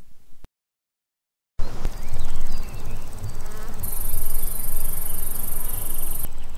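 A grasshopper chirps in a dense, steady insect buzz that starts after a brief silence. It carries on continuously at a fairly loud level, with a high, thin whine added partway through and no voices.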